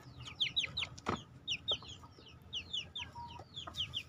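Several healthy, plump free-range chickens cluck and chatter softly in bursts, a rooster-like call briefly rising among them, with a faint outdoor background.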